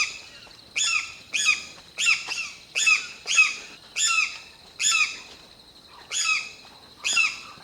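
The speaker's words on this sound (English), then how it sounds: "I already hear lots of wildlife, or at least birds." A bird in a Costa Rican rainforest repeats a harsh, squawking call about ten times in an even rhythm, loud and near, with no other sounds around it.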